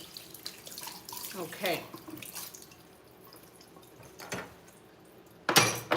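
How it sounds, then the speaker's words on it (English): Tap water running over a plate being washed in a kitchen sink, intermittent splashing and dribbling with a louder gush near the end, and a brief spoken word. "let me wash this plate"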